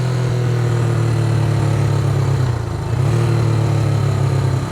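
A Honda CB360 motorcycle running on only one cylinder idles loudly nearby with a low, uneven thrum, dipping briefly midway before picking back up.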